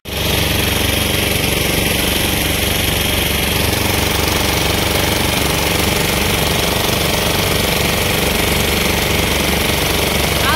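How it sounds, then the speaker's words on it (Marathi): A boat engine runs hard on the Narmada river, a loud, close, unbroken rattling roar with a rapid pulsing beat that fills the whole stretch. "आवाज येतोय इंजिनचा, बोलून फायदा नाही।"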